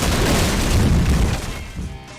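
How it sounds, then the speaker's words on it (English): Explosion in the firefighting video game The Squad, a loud, broad rumbling boom that fills the whole clip and fades slightly at the end, with no talk. "Sometimes things explode."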